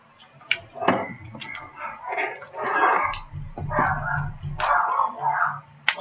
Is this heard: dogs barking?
yes